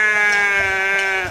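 A dairy sheep gives one loud, close, drawn-out bleat with a wavering tremolo, about a second long and heard alone.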